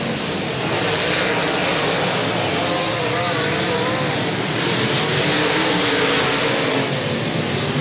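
Race cars battle on the dirt track at Central Missouri Speedway during an A-main, their engines producing a loud, continuous roar that swells and fades as the pack passes.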